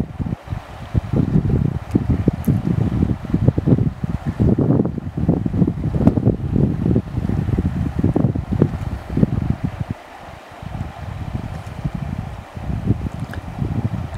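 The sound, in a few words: sound of water at Big Bend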